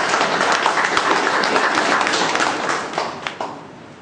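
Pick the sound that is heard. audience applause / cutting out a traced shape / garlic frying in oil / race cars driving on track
audience applause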